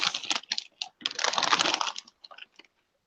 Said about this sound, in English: I'm just typing through this on the sheet.